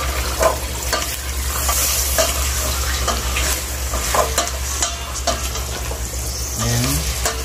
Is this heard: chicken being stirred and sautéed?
yes